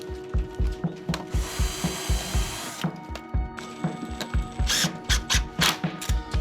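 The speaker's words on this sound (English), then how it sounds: "Put a starter trim against it and screw them tightly together into the slat." A power drill drives screws through a starter trim into a wooden slat, with loud close whirring bursts broken by rhythmic ratcheting clicks and brief stops.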